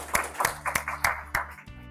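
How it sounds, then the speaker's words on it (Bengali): A handful of separate hand claps, about six slow distinct claps, fairly faint, for a cook at a community volleyball gathering meal. "রাজু ভাইয়ের জন্য হাততালি"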